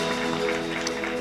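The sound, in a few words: congregation applause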